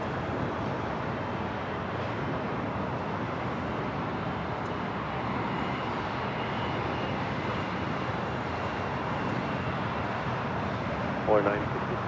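A Korean Air Airbus A380 on short final for runway 24R at LAX, a steady broad roar of jet engines and rushing air, fairly distant and unchanging, with a voice talking over it.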